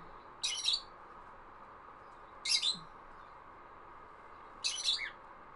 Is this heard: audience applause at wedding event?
no